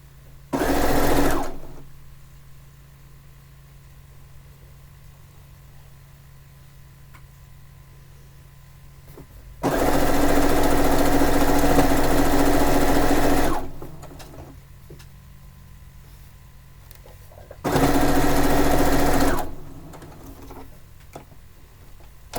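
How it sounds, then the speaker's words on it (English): A sewing machine stitches quilt pieces for a fishing-themed quilt in three loud, rapid bursts of mechanical whirring separated by quiet pauses. "let me sew a couple of them."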